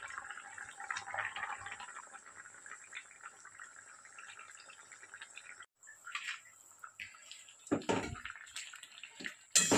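Vegetable curry boils under a lid, with a bubbling watery rush that is fairly faint and uneven, then turns louder and splashier in the last few seconds.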